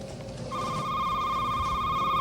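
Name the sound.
telephone ringing in a store simulator video game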